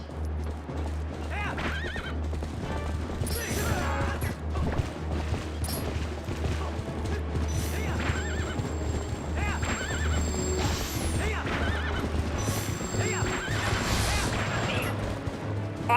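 A horse in Zelda: Twilight Princess whinnies and gallops with rapid clip-clop hoofbeats, loud and continuous over game music, crashes and clashing effects, with a voice talking over parts of it.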